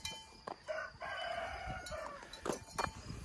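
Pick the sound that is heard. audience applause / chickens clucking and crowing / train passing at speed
chickens clucking and crowing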